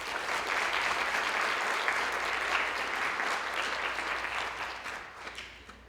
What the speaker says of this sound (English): So let's give them a thank you with a round of applause.